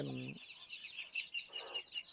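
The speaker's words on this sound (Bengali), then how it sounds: "এখানে মুরগি আছে" Chickens cluck softly on a duck farm, a few short throaty calls close by, with thin high chirping from other birds running faintly behind them.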